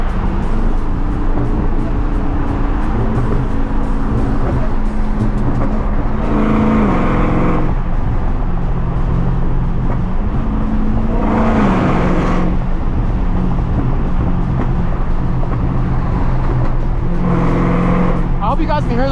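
A 1000 hp Dodge Hellcat Redeye drives with a loud, constant exhaust drone, punctuated by three sharp bursts of pops and crackles spaced several seconds apart, all close and heavy.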